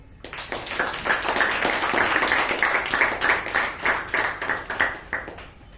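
An audience at a Toastmasters meeting claps in a sustained round of applause lasting several seconds, dense and fairly close, swelling early and then tapering off.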